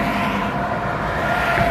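Steady roar of road traffic passing close by a walker on the Appalachian Trail, a continuous loud rumble of tires and engines with no breaks.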